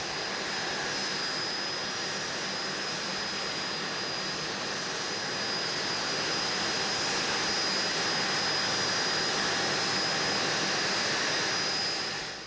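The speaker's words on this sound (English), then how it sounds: "Les eases his Phantom out of its hardened hangar and taxis to line up on the Coningsby runway" An F-4 Phantom jet at Coningsby moves out of a hardened hangar, a steady jet-engine roar with a high, constant whine above it, swelling slightly louder toward the end before cutting off.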